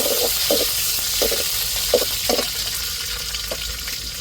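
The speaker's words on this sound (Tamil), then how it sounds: "இப்போ கருவேப்பிலை சேர்த்துக்குருவோம்." Curry leaves crackle and sizzle steadily in hot oil for a fish aviyal tempering, with short bursts of spitting popping through a constant frying hiss, close and fairly loud, no talking.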